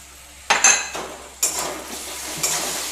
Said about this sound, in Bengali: রসুনটা একটু পেঁয়াজের সঙ্গে ভাজা হয়ে যায়।